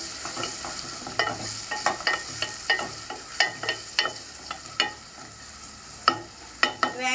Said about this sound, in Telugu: ఒక 3 ఉల్లిపాయలు వేసుకున్నాను. వేగనిద్దాం ఫ్రెండ్స్.